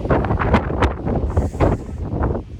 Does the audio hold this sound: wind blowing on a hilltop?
yes